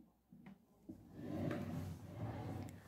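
A drawer in a student dormitory room slides open with a faint wooden rumble and soft knocks, quiet and close in a hushed room.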